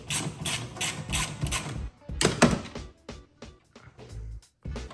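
Ratchet and socket loosening a 13 mm wiper arm nut on an Audi TT MK1, with close, irregular bursts of clicking and mechanical clunks separated by short pauses.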